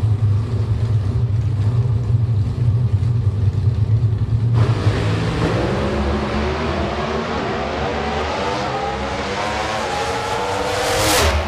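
A Pro Stock drag racing car engine roars loudly throughout during qualifying, holding a steady drone before climbing into rising revs as it accelerates away, with a dense mechanical rasp and no talk over it.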